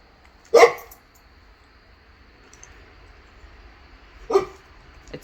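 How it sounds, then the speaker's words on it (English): A dog barks outdoors at squirrels, two separate sharp barks several seconds apart, moderately loud and close, with quiet room tone between them. "I'm sorry, Ada's barking."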